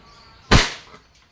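A WE Glock 34 Gen 4 airsoft pistol fires one sharp, loud shot during a chronograph test with 0.20 g 6mm BBs, followed by a short decaying tail and a faint click.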